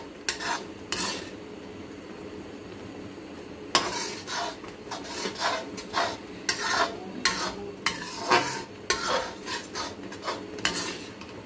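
Raw mango chutney being stirred in a pan over a medium flame, with repeated scraping and clinking of a spoon against the metal vessel in an irregular rhythm, close and clear, and no voices.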